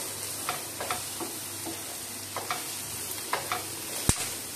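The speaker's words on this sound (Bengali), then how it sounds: "এবার এগুলো একটু আমি একসঙ্গে করে ভেজে নেব।" Carrot, ajwain, melon seeds and ginger fry together in a pan, a steady sizzle broken by scattered scraping stirs and one sharp clink near the end, with no talking.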